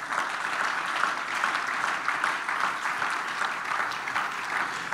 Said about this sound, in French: Acclame très fort là où tu es.